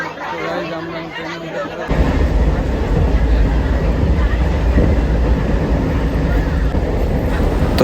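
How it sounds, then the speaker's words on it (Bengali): A train pulls out of a station platform at the Thakurnagar fair. Heavy rumbling rail noise starts suddenly about two seconds in and stays loud and steady to the end, with crowd chatter on the platform beneath it. "এই যে ট্রেনটা চলে গেল, এটাতে করে এসেছিলাম।"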